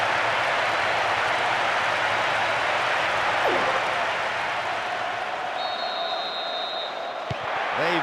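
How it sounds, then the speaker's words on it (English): Stadium crowd in PES 2009 on PS2 roars and cheers after a goal, a dense continuous wash of noise at steady loudness throughout, with a brief whistle-like tone late on and no clear talk over it. "That strike has just brought so much excitement and cheering"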